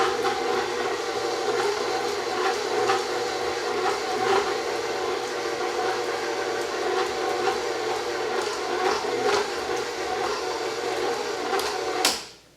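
A KitchenAid stand mixer on speed 1 beats butter with its paddle attachment, giving a steady, close mechanical whir with a faint rhythmic knocking throughout, then cutting off at the end.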